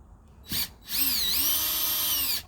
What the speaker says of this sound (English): come out and take these screws out on this side.